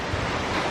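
A waterfall gushes beside a hiking trail in the Spanish Pyrenees, a dense, steady roar of rushing water heard close and fairly loud.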